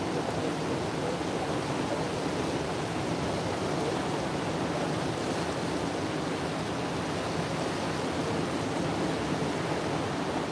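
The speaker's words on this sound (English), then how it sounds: "The water, yeah, it's moving, man." River water on a Southeast Kansas river flows in a steady, broad rushing wash, loud and constant throughout with no voices.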